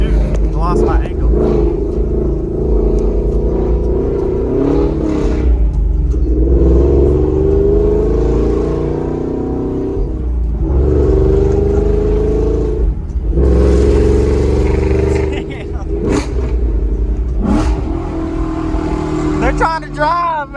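A Ford car engine revs and drones steadily, rising in pitch through several accelerations, with people talking over it throughout.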